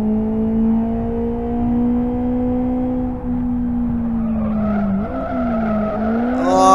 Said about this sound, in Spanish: Derrapando a todo dar.